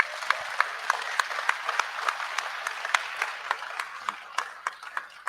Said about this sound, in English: I'd like you to all give him a real round of applause for coming